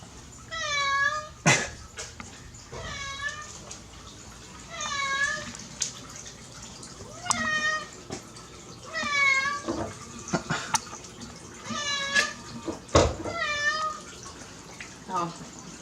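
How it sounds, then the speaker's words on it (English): A cat meows repeatedly while being bathed, about six drawn-out, wavering cries spaced a few seconds apart over splashing water and occasional close knocks. "He just meows constantly the whole time."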